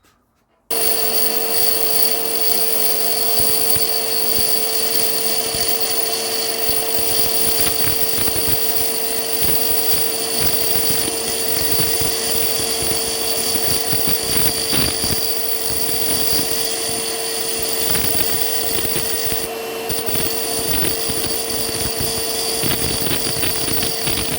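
Grinding wheel being dressed with a diamond dresser: a continuous loud steady whine with a constant tonal hum and gritty scraping texture throughout, close, with no talk.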